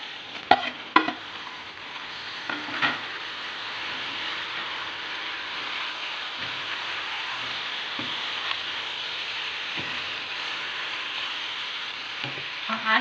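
Shrimp and squid frying in a pan for Cajun seafood, a steady loud sizzle with occasional stirring scrapes and clicks and no talk.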